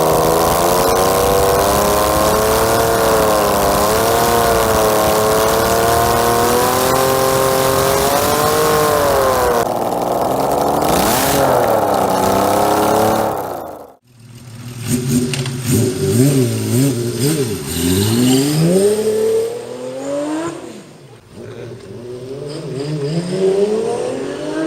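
Honda CBX-1000 six-cylinder motorcycle engine running loud and close, holding a smooth high-revving howl, then dropping and blipping the throttle through rising and falling revs.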